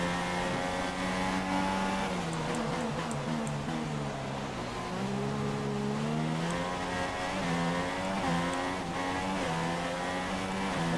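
A Formula-style race car engine in a championship racing game at the China circuit, a loud sustained high-pitched whine with the pitch rising and falling as the throttle eases off and back on, with no talk over it.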